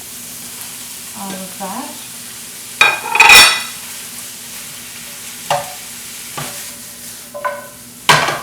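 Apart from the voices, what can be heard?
noodles stir-frying in a wok for pad see ew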